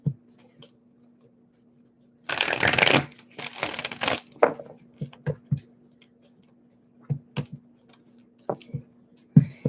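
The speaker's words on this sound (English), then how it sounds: "One more shuffle." Cards riffle in two quick shuffling bursts, followed by scattered soft taps and clicks as they are handled nearby.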